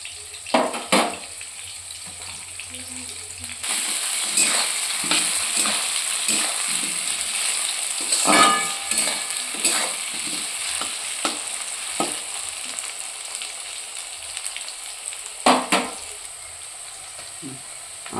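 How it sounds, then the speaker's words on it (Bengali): Potatoes frying with chicken in a pan, with soft sizzling and intermittent stirring scrapes, plus a few louder clanks and a brief splash of water partway through. "মাংসের সঙ্গে আলুটাকে ভালোভাবে ভেজে নিতে হবে"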